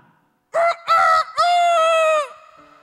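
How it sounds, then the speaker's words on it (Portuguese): A rooster crows close and loud, with two short opening calls followed by a long, drawn-out final note, sharply clear against an otherwise quiet background. "o galo canta"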